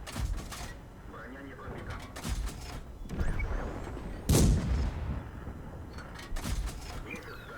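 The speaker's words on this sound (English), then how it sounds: "another 4 shots fired, another 4 shots missed" A T-127 tank in the World of Tanks video game fires its cannon in several sharp bursts at an enemy Panzer 1C. The shots punch through a constant rumbling engine and battle noise.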